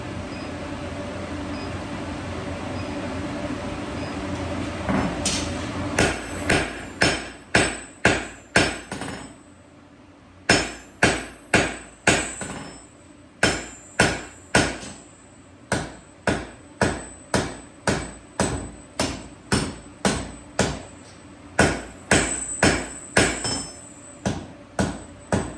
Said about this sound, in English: just forging down, simple piece of flat bar